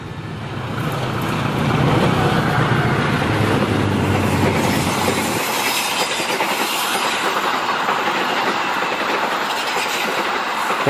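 A passenger train runs straight through Kedunggedeh station, rumbling loudly past at close range, a steady roar of wheels on rails with a rhythmic clatter and a metallic squeal, no voices.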